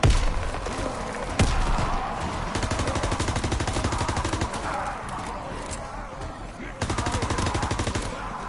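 Rapid automatic gunfire in Call of Duty WW2 Zombies, bursts of shots fired at zombies, loud and sustained with brief pauses between volleys.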